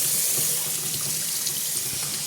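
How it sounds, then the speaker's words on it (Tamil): Running water from a tap splashes steadily over the wet grinder stone as it is washed, a continuous close hiss with no talk. "கிரைண்டரோட கல்லை வந்து இப்படி நல்லா வாஷ் பண்ணி வைக்கணும்."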